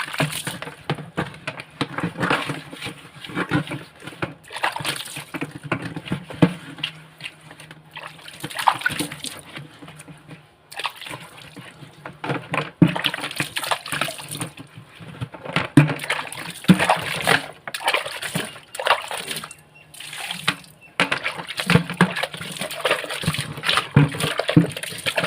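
Water splashes and sloshes as an iron kadai is washed and rinsed with Vim bar, a steady run of close wet scrubbing and splattering with short pauses, continuing without talk.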